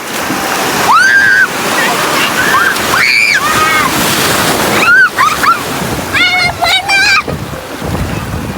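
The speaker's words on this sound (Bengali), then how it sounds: "এই যে এত বড় বড় ঢেউ আসতেছে যে।" Big sea waves surge and wash in on Kuakata beach in Bangladesh, a loud continuous roar of surf and wind close by, with several excited voices shouting and calling out over the water.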